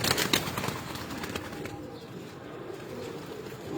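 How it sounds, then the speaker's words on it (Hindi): Pigeons on a Multan rooftop loft, a brief burst of wing flapping at the start followed by soft, low cooing and rustling at moderate distance, with no voices. "इनमें से निकलते हैं ये तस्वीर वाले कबूतर"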